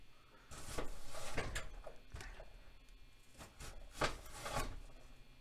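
A knife slices through an onion on a cutting board in several soft, deliberate strokes, each a quiet rasping cut with a light thud, spaced unevenly and heard up close.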